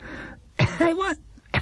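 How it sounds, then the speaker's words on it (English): A voice performs a brief throat-clearing cough in a quiet setting, close and fairly soft, with a short gap and then another quick rasp. "Mr. Gruber coughed."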